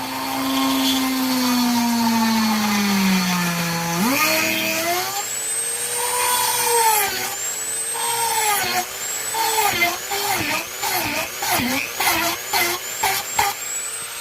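Dewalt DW920 power tool spinning at around 5,000 RPM: a steady motor whine that swoops and rises in pitch, then breaks into quick, stuttering bursts of revving toward the end.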